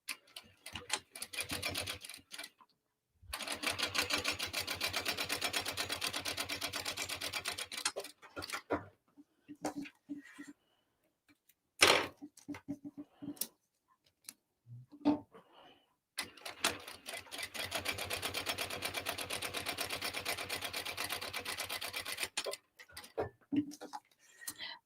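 A sewing machine runs rows of stitching on a tote bag, in two long steady bursts of rapid ticking separated by pauses with shorter clicks and handling noises.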